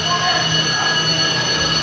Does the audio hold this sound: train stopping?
yes